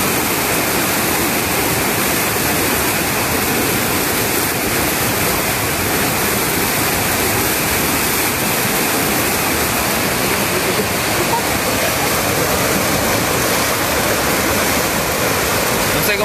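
Floodwater from a rising river in Rosario de Lerma surges in a constant, dense roar, loud and close for the whole stretch, with no break in the torrent.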